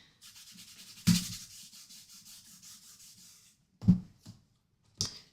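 An anti-static embossing pouch is rubbed across paper, making a soft continuous brushing rasp followed by a few short, sharper scuffs and taps, quiet and close.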